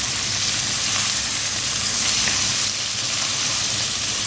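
Chopped garlic and ginger fry with whole spices in a pan for a chicken khara masala, making a loud, continuous, even hiss close by with no talking.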